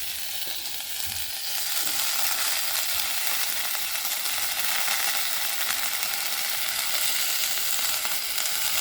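Tomato and coriander fry in a pan for coriander chutney, making a loud, continuous hiss and crackle that swells after the first second and holds steady, with faint stirring scrapes and no talking.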